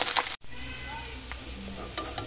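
Small mourola fish frying in oil in a pan and being turned, a close steady sizzle with a brief clatter at the start, a momentary gap, then continuous hiss and occasional light spatters.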